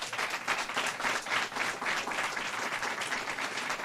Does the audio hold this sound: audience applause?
yes